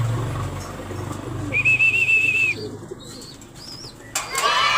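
A racing pigeon is handled at close range amid soft low rumbling, with a few thin whistling calls and a brief rustle near the end.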